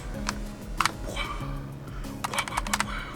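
Keys pressed on a Bloody B820R mechanical keyboard, including the number keys and function button along the top row, giving short clusters of sharp clicks in a few bursts over a steady low hum.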